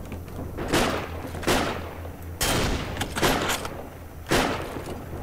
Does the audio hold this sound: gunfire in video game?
yes